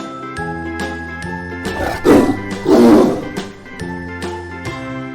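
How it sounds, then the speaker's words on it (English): Two loud, close tiger roars rise over a chiming, tinkling children's music backing, each a short throaty burst a moment apart. "T for Tiger."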